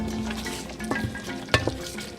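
Salted fish peanut butter stew with spinach simmering in a pot, giving a soft low bubbling and light sizzle with a few faint utensil taps, quiet and close, with no one talking.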